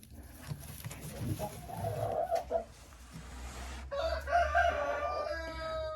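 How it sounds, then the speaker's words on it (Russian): Leghorn and Lohmann Sandy hens in a coop cluck and call faintly, with scattered soft clucks and a few louder, drawn-out calls near the end. "Молодцы Легорны и Ломан Сэнди."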